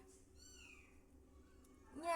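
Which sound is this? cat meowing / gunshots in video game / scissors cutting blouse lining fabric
cat meowing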